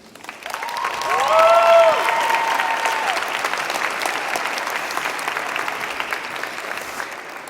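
An audience at a school board meeting bursts into loud, sustained applause for journalism students, swelling quickly and then continuing steadily with a few whoops.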